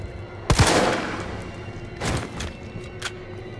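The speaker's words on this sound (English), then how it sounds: "It takes like three shots to put them down, even though I'm shooting them in the head." Gunfire in the video game Resident Evil 3: a loud, sharp shot rings out, followed by two more spaced shots about a second and a half apart, each trailing a short echo.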